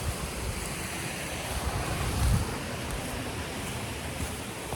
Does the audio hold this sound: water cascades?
yes